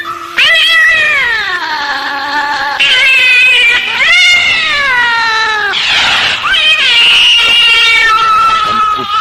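Cat yowling in an Indonesian mystery radio drama: loud, continuous wavering caterwauls and meows with rising and falling pitch, sustained over the whole stretch with no talk.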